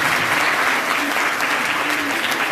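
Children in a primary school seminar audience clap together in loud, dense, continuous applause that fills the room.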